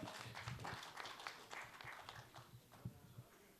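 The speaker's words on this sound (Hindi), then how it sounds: "एक बार जोरदार तालियां फिर से आप" Crowd applause with scattered claps fills an awards conclave hall, fairly steady for a few seconds with some louder individual hits, moderately distant.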